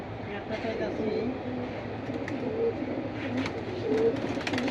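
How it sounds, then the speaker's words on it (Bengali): Pattha pigeons coo softly and repeatedly in the background while people talk over a steady, noisy ambience at a pigeon sale. "এগুলো অনেক সুন্দর পাট্টা কবুতর"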